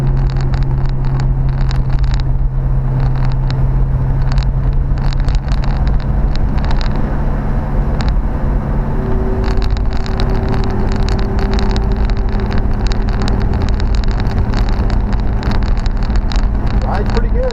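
A Plymouth Fury with a 383 V8 engine rumbles loud and steady while driving, with a low engine drone, wind noise and someone talking over it.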